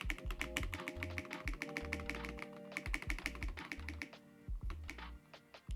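A keyboard spacebar fitted with a Glorious GOAT V2 stabilizer is pressed over and over, giving a fast, steady series of close, crisp clacks and thocks with short pauses.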